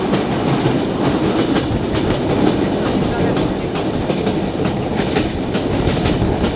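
Train running through Pakshi station without stopping, loud continuous rumble and rhythmic clickety-clack of wheels over rail joints heard from on board, steady throughout.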